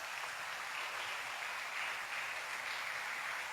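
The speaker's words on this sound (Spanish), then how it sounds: "usted debería dar un aplauso bien fuerte" Church congregation applauding loudly during a sermon, a thick, sustained roar of many hands clapping at once, steady and even from start to finish with no voices above it.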